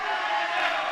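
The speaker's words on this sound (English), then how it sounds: "the crowd is reacting with every knee strike" A fight crowd at a 2015 women's bout in Tuscaloosa, Alabama, roaring in a sustained, loud swell as knee strikes land in the clinch.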